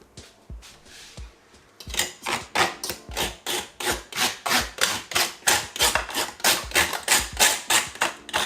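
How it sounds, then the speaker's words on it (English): Yam is grated by hand for Jamaican sweet potato pudding, a close, rhythmic run of rasping strokes, each scraping pass repeating steadily after a few quiet knocks at the start. "So you have to do the yam, you have to grate that."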